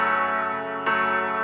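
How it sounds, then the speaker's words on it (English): A mid-range piano layer from a song sustains a rich, ringing chord, then a fresh chord is struck partway through and rings on. It is steady and close, with no talking. "Then I added a mid-range piano"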